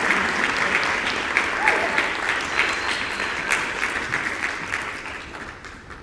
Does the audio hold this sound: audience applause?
yes